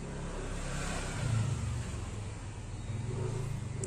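A car engine idles and revs after a new manual tensioner is fitted, a broad rumbling drone with a brief rise in the middle, heard close and steady with no talking.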